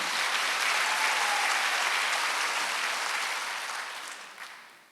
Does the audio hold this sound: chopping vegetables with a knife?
no